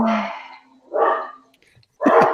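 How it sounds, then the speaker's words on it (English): Several dogs bark excitedly in two loud, ragged bursts separated by a short pause, close by, with no talk over them. "Whose dogs are going crazy?"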